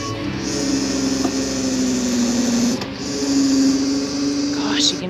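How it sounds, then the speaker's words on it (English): A backhoe digging a trench: the engine and hydraulics drone steadily with a sustained mechanical whine that briefly dips and then picks up again, loud and close, with faint voices underneath. "you can hear that machine working though"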